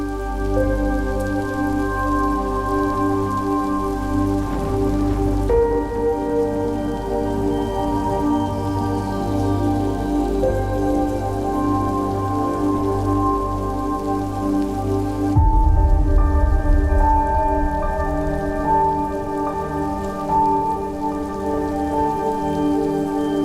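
Heavy rain pours down steadily for the whole stretch, a dense close wash that swells louder partway through, with no voices.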